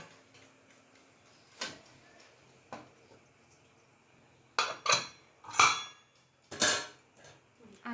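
A pressure cooker lid is shut in a home kitchen during rice cooking, giving several sharp metallic clanks and clicks, a few spaced single hits and then a quick cluster near the end, against a quiet background.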